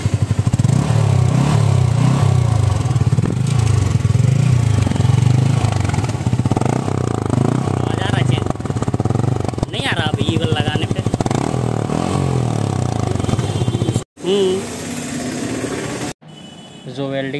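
A motorcycle with a modified silencer revs loudly and continuously, its engine roaring and clattering up close, with a few brief cuts near the end.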